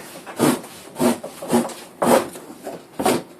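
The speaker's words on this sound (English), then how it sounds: "I'm just going to take my razor knife and cut off about a 2-inch excess" A razor knife saws through excess cardboard on a bike box in about six close, rough strokes, each a scraping rasp roughly half a second apart, with no talking.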